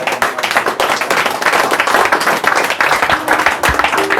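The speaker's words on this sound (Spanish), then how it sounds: "Démosle un fuerte aplauso al Señor en esta hora." A church congregation claps together during a worship service, a dense, steady wash of hand claps sustained loudly for about four seconds with no talking over it.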